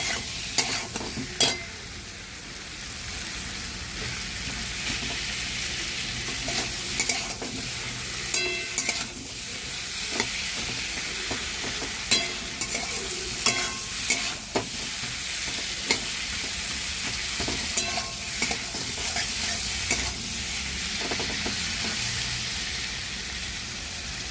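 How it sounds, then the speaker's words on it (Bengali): Taro and potato pieces sautéed together in a pan, a continuous sizzle broken by repeated scraping stirs and spoon knocks throughout, with no talking. "কচু আলু সব একসঙ্গে আমি দিয়ে কষাচ্ছি ভালো করে"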